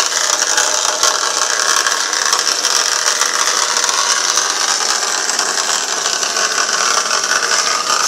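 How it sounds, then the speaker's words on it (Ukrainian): A steady, dense mechanical hum with a fine rattling texture from a homemade pyrolysis wood-burning boiler drones on without a break, loud and close, with no voices. "Сто градусів дрова тліють, гарять і тут гул стоїть."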